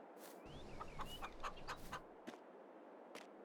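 Chicken clucking in Farming Simulator 22 on a farm near the coop: a run of short, close clucks and squawks in quick succession, then a couple of isolated clucks against steady background noise.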